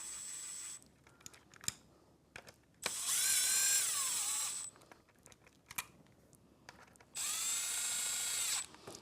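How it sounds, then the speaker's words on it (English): A power drill with a 1/8 hex bit drives screws while installing a mortise lock, whirring in two sustained bursts, about two seconds each, with quiet clicks and handling noises between them. "So I'll put that on my drill here"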